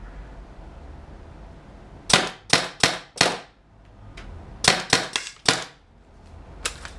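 A Tippmann TIPX paintball pistol running on CO2 fires two quick bursts of four or five sharp snapping shots each, with a lone shot between and another near the end, close and loud against a quiet background.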